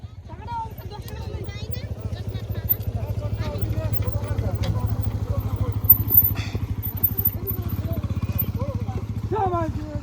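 Motorcycle engine idling with a steady low chug near a river boat while it is loaded aboard, with light clatter and voices talking over it throughout.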